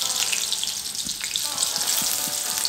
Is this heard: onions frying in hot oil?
yes